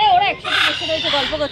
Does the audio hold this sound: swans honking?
yes